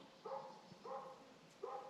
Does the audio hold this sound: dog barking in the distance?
yes